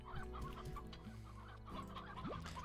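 Chickens in a video game cluck in short repeated bursts, a few birds overlapping, close and clear against a steady hum.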